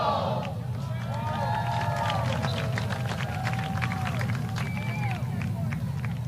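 Florida State Seminole home crowd at a women's college soccer match against Pitt, a broad stadium murmur with scattered cheers, whistles and clapping, under steady commentary.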